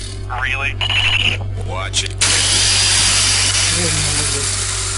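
Mech drill in the video game Lost Planet 3 starts up as a loud, steady grinding whir after a few short mechanical bursts, running continuously to the end, with speech over the first half.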